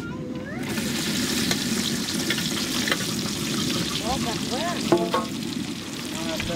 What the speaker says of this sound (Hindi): तो प्याज को गोल्डन ब्राउन कर लेते हैं चलाते हुए